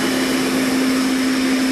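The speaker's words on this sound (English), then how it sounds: "This is the Space Age Hoover Constellation." A Space Age Hoover Constellation vacuum cleaner, the floating spherical type, running with a loud, steady motor whine and a strong constant hum, with no talk.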